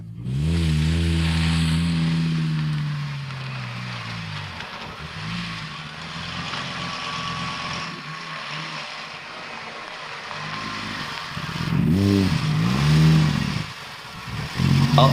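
A Lamborghini Gallardo LP520, restored after a fire damage, revs and pulls away while driving, its engine rising in pitch, settling, then surging again near the end, loud and close.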